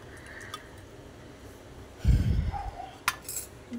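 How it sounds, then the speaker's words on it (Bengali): A spoon mixes turmeric, chili and cumin powder into water in a small bowl, with a short wet scraping swirl and a single light metallic clink, otherwise quiet. "পরিমাণ মতো হলুদ গুঁড়ো, পরিমাণ মতো লঙ্কা গুঁড়ো আর জিরে গুঁড়ো দিয়ে ভালো করে চামচ দিয়ে গুলে নেব"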